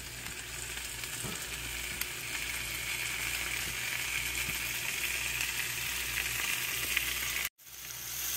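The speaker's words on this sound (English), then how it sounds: "Now I will add the green chilies and tomatoes" Green chilies and tomatoes hit a hot pan of okra cooking for a dry bhindi sukka with coconut, a continuous close sizzle with a few scraping stir sounds, briefly cut near the end, no talking.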